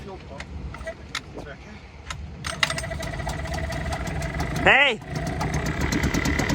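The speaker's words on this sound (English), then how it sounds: "Motor is running again!" An outboard boat motor runs and idles in stormy weather, a steady low engine drone with a rising revving sweep midway, while people shout over it.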